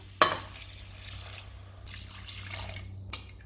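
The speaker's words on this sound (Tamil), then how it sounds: "இப்போ தண்ணி சேர்த்துடலாம்" Water being poured into a pot for mutton bone rasam, a short splash at the start followed by a soft, quiet trickle and gurgle, close by and alone.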